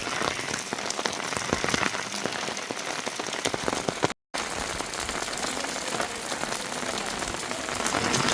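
Heavy rain pours at a school in Uttarakhand, a dense, loud, constant hiss of drops drumming on surfaces that cuts out for a split second midway, then resumes.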